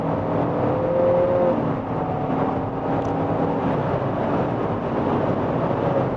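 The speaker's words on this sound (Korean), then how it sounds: "다시 한번 가속 성능을 보도록 하겠습니다" A 2019 Nissan Altima with a 2.0 turbo engine accelerates on a straight road, its engine note a steady, muffled drone heard from inside the cabin, rising smoothly with no talk over it.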